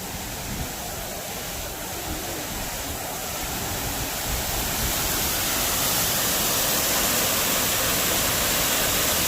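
A steady, full rush of falling water from a waterfall at Epcot's World Showcase fills the scene, a continuous broadband roar that swells slightly louder toward the end, with no voices.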